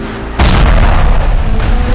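A rocket launcher fires in Sakura School Simulator, one sudden loud boom after a quiet start that rolls into a long, heavy rumbling blast.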